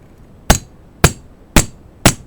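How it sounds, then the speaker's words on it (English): A hammer strikes a 5/8 inch deep socket to drive the bushing out of a power steering pump during a rebuild: four loud, sharp, evenly spaced metallic blows, close up, with no talk. "Or a 5/8 inch deep socket, and you can hammer on it"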